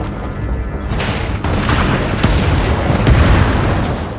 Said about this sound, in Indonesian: berusaha menyelamatkan Haris, langsung memerintahkan anak buahnya untuk meledakkan tempat itu dan pergi dari sana